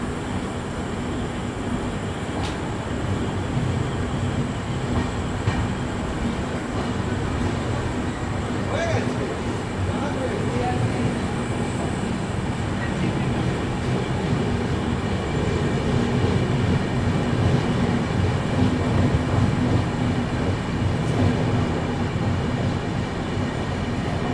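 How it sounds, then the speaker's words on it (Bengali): The Jagannath Express rolls into Mecheda station, a loud, steady, close-up rumble of wheels and carriages that fills the whole stretch without pause, with some voices faintly present underneath. "ফাইনালি আমাদের ট্রেন এসে পৌঁছালো মেচেদা।"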